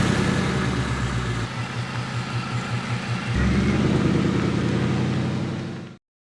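A Ford Mustang 5.0 with an automatic gearbox and 500 horsepower runs close by, its deep, steady engine rumble swelling partway through before cutting off abruptly at the end; nobody speaks.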